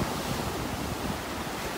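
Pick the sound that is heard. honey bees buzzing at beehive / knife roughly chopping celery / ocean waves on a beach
ocean waves on a beach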